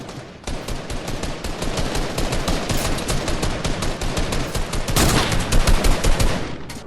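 Rapid bursts of automatic gunfire in a competitive duos tournament video game match, dense and continuous shooting with brief louder volleys, no talking.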